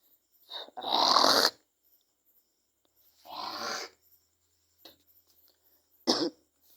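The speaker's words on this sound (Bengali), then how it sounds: "আমার একটু কাশি লাগছে" A few separate coughs sound close by with pauses between them: a heavy burst, a second cough, a tiny throat sound, then a short final cough.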